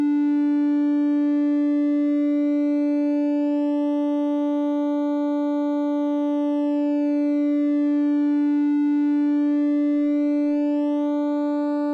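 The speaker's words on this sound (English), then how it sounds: "that shape knob, it's gonna modify or distort that waveform, and we'll hear the effect of that and how it sounds as well" Bullfrog XL synthesizer oscillator holding one steady pitched tone while the waveform shape is slowly turned, its upper harmonics shifting and brightening, sustained and alone with no talk.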